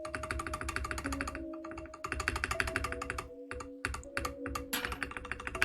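Typing on a custom mechanical keyboard, a Wyvern prototype build, with dense bursts of close, crisp key clacks and short pauses between runs, alone without talk.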